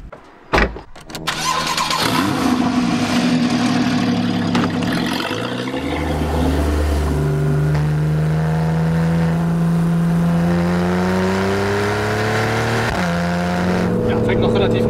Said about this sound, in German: Deswegen fahre ich jetzt mal schön den Pass hoch.